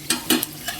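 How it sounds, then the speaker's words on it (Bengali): Dry red chillies, cumin seeds and whole spices crackling in hot mustard oil, heard as a short sizzle with a few sharp spluttering pops. "সরষের তেল দিয়ে দিয়েছি, এর মধ্যে আমি শুকনো লঙ্কা ফোড়ন আর জিরে ফোড়ন"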